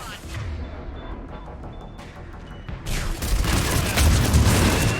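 Missile explosions in the Mass Effect 3 video game, with heavy booms and crackling blasts that swell louder in the second half, layered over dense battle noise while someone talks in Hungarian.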